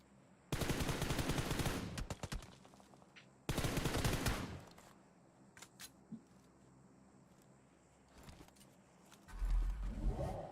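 Long-range gunfire in a competitive shooter game: two dense, loud bursts of rapid shots separated by a pause, followed by scattered single cracks and a low rumble near the end.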